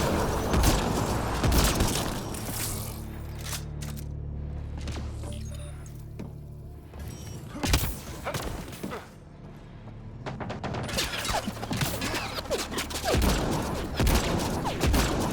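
Gunfire in the shooter game Mass Effect: Andromeda, bursts of loud shots and booms coming in clusters over a busy, dense battle soundscape, with quiet stretches between volleys.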